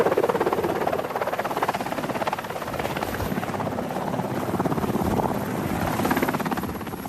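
Helicopter arriving, a loud continuous rotor thump with steady rapid chopping and engine whine, pulsing slightly in strength throughout, with no voices over it.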